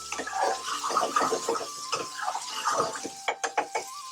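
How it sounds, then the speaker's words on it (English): A spoon stirs vindaloo curry in a pan after vinegar is added, giving a steady run of scraping and clinking strokes. A quick burst of sharper knocks comes near the end. "we can add the vinegar, give that a stirring"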